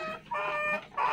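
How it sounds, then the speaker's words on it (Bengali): Japanese-breed chickens, a rooster and two hens, make short clucking calls in quick bursts, close and fairly quiet. "এখানে একটা মোরগ আছে এবং দুইটা মুরগি আছে"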